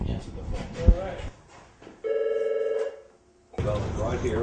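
A telephone rings once in an apartment: a steady, buzzing electronic tone of about a second, with talk and room noise before and after it.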